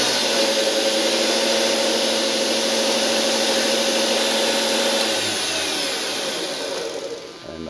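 A workshop machine runs steadily with its spindle turning and the cover off, a broadband whir with a sustained tonal hum, loud and close, easing slightly near the end.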